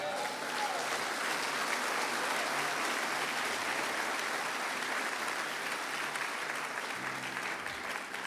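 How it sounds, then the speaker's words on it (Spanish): A church congregation applauding during a sermon, a dense steady wash of many hands clapping that fills the whole stretch, with a faint voice surfacing near the end. "Dale un aplauso al Señor."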